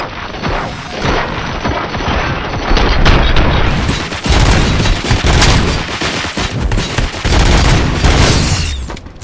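Sustained, loud gunfire and crashing impacts fill a combat scene in the video game RoboCop: Rogue City, with dense overlapping shots and booms running continuously throughout, no pauses and no talk.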